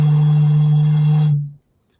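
Air blown across the mouth of a container produces a strong, steady low hollow tone, like a bottle whistle, held for about a second and a half before fading out.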